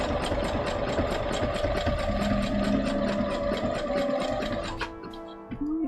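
A sewing machine stitching cosplay fabric runs in a fast, steady mechanical chatter, loud and close, then slows and stops near the end, leaving a brief whirring wind-down.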